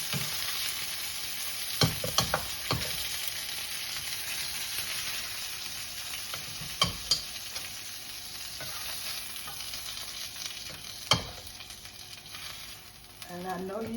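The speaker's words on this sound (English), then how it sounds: "we have the lamb chop brown on both sides. I'm going to put it in my cooking pot." Browned lamb chops for an Irish stew sear in a cooking pot, keeping up a steady hiss with a few sharp knocks and scrapes scattered through.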